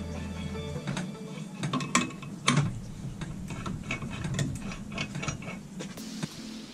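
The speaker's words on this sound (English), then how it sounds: "a few adjustments of the top nut to make sure it's not too tight" The top nut on trike steering forks is tightened and adjusted, with a run of small metallic clicks and taps, ratchet-like ticks and light clanks at close range.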